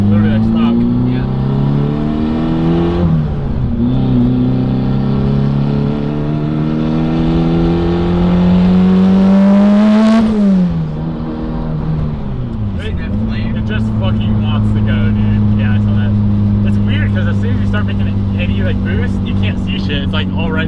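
A 1000 WHP Mitsubishi Evo 9 on 48 psi of boost roars loudly through repeated rising revs and gear changes, its engine and exhaust droning close in-cabin while people talk over it.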